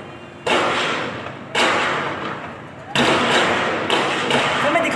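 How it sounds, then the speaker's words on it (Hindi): Gunfire during an attack on the Pakistan Stock Exchange in Karachi: four sharp, loud cracks at irregular intervals, each trailing into a long echoing wash off buildings, with voices talking underneath. "सर मेरे सामने गोलियां चल रही हैं।"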